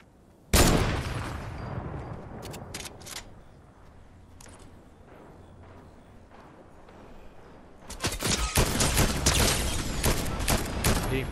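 Fortnite gunfire from a video game, with a sharp opening shot, scattered single shots, then a dense, loud burst of rapid automatic fire near the end.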